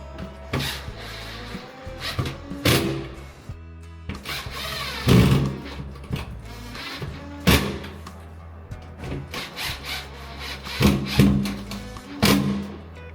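Screws are tightened to fix a positive input ventilation unit to a ceiling, flicking out its clamping flaps: a close series of sharp clunks, clicks and short tool bursts, irregularly spaced.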